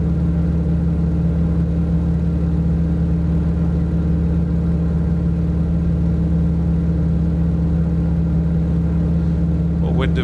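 A T-6 Texan aircraft engine drones steadily in a flight simulator game, a loud, continuous low hum with a constant pitch throughout and a brief higher sound at the very end.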